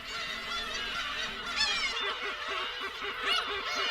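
Black-tailed gulls call at a crowded breeding colony on Hongdo, a dense chorus of loud, nasal, mewing cries with several close birds yelping in quick overlapping bursts.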